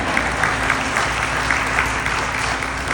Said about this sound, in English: You can clap for sure.